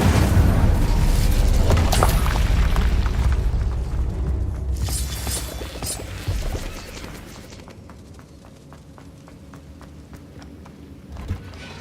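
Incendio fire spell blast in Hogwarts Legacy, a loud booming whoosh of fire that fades over several seconds into quieter mechanical clicks and a final small thud.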